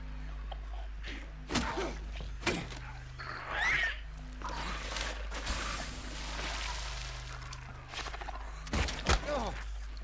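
Gunfire in the video game Silent Hill 2: several sharp, loud shots spaced irregularly across the stretch, a couple in quick pairs, over a low droning game ambience with scattered creature-like noises.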